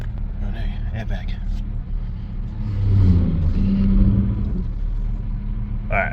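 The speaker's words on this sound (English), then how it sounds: "I reckon that noise is the power steering pump." A steady mechanical whine and rumble from a Ford Fairlane's power steering pump with the engine running, swelling slightly in the middle, continuous and close throughout.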